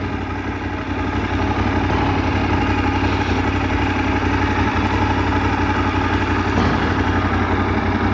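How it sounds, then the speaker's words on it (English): A motorcycle engine, on a ride with a KTM Super Adventure and a Triumph, idles steadily nearby with a constant low rumble for several seconds before being switched off. "He's turning the engine off."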